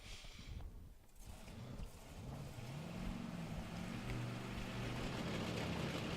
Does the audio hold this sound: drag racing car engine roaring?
yes